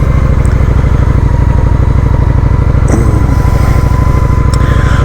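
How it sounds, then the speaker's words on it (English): A Honda Shadow 750 motorcycle engine idles steadily nearby, a low, even rumble with a regular throbbing pulse that holds constant throughout, with no talking. "the solution was to basically back the motorcycle out, fire it up"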